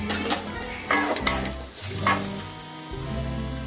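Vegetables stirred in a pan over low gas for veggie fried rice, with a soft steady sizzle under several scraping stirs and light clinks, fairly close and moderately loud.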